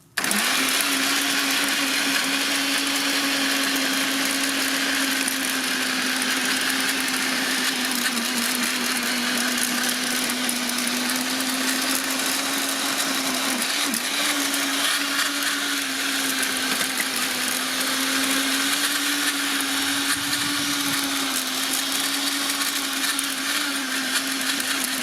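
A TACKLIFE 1400W electric garden tiller with blades churning soil drones steadily and loudly for the whole stretch, a constant motor whine with a small pitch dip near the end, no voices.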